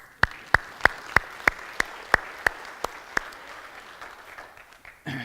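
A church congregation claps in unison, with about ten sharp, evenly spaced claps in a steady rhythm that fade out toward the end.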